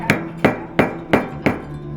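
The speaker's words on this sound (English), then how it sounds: "you can't help but notice a whole lot of hammering going on in the bottling area" Hammering rings out in a whiskey distillery's bottling area: five evenly spaced, sharp metallic blows about a third of a second apart, moderately loud and close, with no voices.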